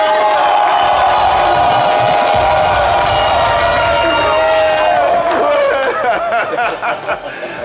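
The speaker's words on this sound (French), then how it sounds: "Est-ce que je peux entendre des cris de joie," A live studio audience at a French-language talk show cheers loudly and steadily, with voices and whoops blending into a continuous wall of crowd noise that thins out near the end.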